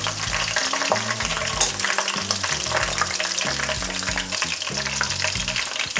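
Chicken pakoda pieces deep-fry in oil over high flame, giving a loud, dense, continuous bubbling sizzle close up, with no voices.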